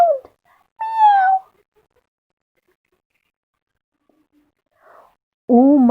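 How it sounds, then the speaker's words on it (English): A cat gives several distinct meows: a short one at the start, a longer rising call a moment later, and a loud drawn-out meow at the end, all close and clear against silence. "That was the cat."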